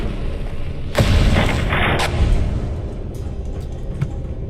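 A heavy weapon in Fallout London booms out in a loud, broad blast, followed by a second big report about a second later, both tailing off into rumbling background noise.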